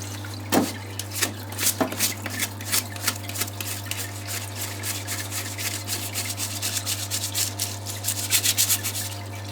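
Greasy Lucas DR3a wiper motor parts are scrubbed clean in a washing tank, with rhythmic rubbing and brushing strokes and light liquid splashes over a steady low pump hum, close up and without talking.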